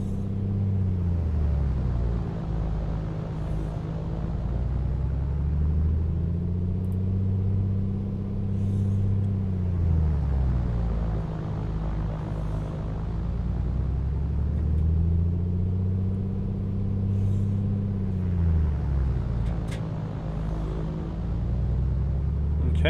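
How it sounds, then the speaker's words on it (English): Piper Comanche 250 single piston engine in a flight simulator, droning steadily as the propeller is cycled three times, the pitch rising and falling in slow repeated waves. "let's cycle the prop 3 times"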